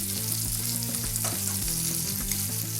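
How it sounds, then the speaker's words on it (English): A scallop sears in a pan while being basted with butter and tarragon, giving a loud, steady sizzle with spoon scrapes, accompanied by a low background hum. "Always sear the scallop on one side"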